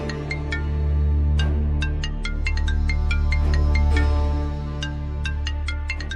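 A phone ringtone plays loud and close as a call comes in, a steady repeating electronic melody over a low sustained drone for the full length, with no one speaking.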